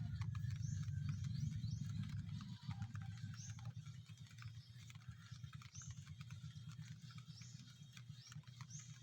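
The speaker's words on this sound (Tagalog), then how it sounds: "Ulan na talaga. Ulan." Steady rain patters against a surface, with a low rumbling hum underneath and faint chirps from birds somewhere nearby.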